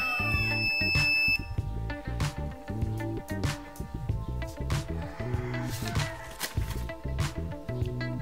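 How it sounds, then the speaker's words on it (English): An electronic buzzer driven by a two-button latch switch circuit gives a tonal, pulsing electronic sound in choppy repeated bursts, moderately loud with no talk. "turning the buzzer on, just like this one."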